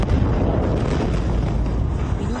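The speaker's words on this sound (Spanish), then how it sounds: "captaron con sus celulares el momento del estallido que se escuchó en varios sectores de la ciudad" Massive city explosion recorded on a cellphone, a sustained, heavy rumbling roar with crackling bursts, loud and distant, rolling on without a break.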